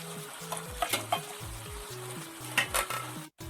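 Water from the masala-grinding jar is poured into a pan of spiced breadfruit (kadachakka) curry, raising a quiet sizzle with sharp crackling bursts over a soft, stepped tonal background.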